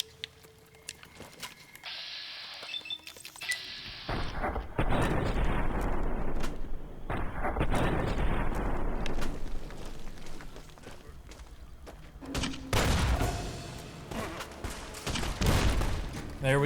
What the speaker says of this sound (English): We're gonna use a grenade launcher.